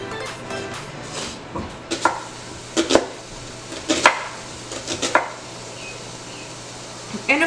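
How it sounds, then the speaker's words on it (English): A knife chopping an onion on a cutting board, a series of irregular crisp knocks and cuts, close and fairly loud, with short pauses between strokes. "I hate cutting onions because I always cry, and I cut mine in half."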